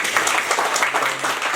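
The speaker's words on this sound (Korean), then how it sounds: "박수로 시작하겠습니다." An audience at a youth town-hall talk with a National Assembly candidate claps together in a brief, steady burst of applause, dense and fairly close throughout.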